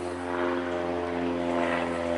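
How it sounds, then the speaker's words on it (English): A small propeller plane drones overhead in a steady, even hum with a clear tonal buzz, moderately loud and unbroken, above a quiet historic cemetery with no talking. "No, it's a small plane."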